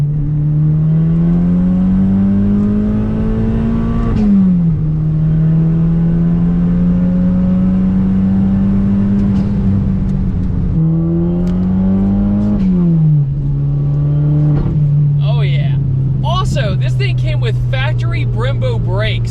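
A Chevy Cobalt SS engine revs up through the gears, each pull a rising, droning note followed by a brief dip at the shift, heard loud from inside the car with a voice talking over it near the end.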